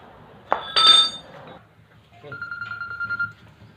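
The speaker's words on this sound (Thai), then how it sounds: "โทรศัพท์ครับ" A telephone rings with a single steady electronic tone lasting about a second, following a couple of sharp clinks and brief clatter, with quiet background between.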